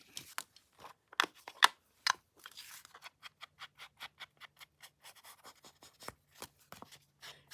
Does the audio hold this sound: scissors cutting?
yes